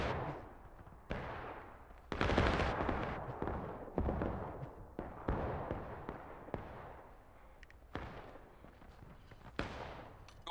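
Sustained gunfire from a skirmish or reenactment-style battle: repeated sharp shots and bursts at irregular intervals, some near and loud, others farther off, with no clear talking.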